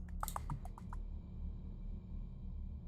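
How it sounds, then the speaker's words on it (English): Rapid keyboard typing, about eight quick clicks in the first second of logging into a computer, then only a quiet steady electronic hum. "The clicking is the sound of the beeps and boops."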